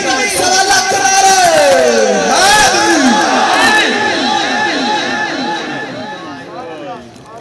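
A large crowd chants religious slogans in unison at a devotional gathering, many loud overlapping voices rising and falling in rhythmic calls before tapering off.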